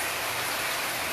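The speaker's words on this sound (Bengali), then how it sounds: "দেখো কি বৃষ্টি শুরু হয়েছে।" Steady rain falls during a downpour at home, a dense, even hiss filling the whole stretch with no gaps and no voices.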